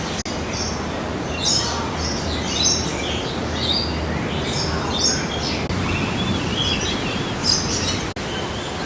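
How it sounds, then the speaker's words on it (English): Many birds chirping and tweeting in the Hong Kong Park aviary, scattered calls at a moderate distance over a steady background hiss, with no one speaking. "you can stand in one spot and a great many birds will just fly by"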